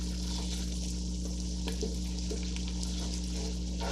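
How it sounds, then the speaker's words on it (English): A spoon stirs a pot of clam chowder with dill weed, making soft, scattered scrapes and a light bubbling sizzle over a steady low kitchen hum. "Give this a good stir."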